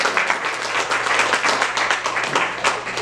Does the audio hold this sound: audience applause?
yes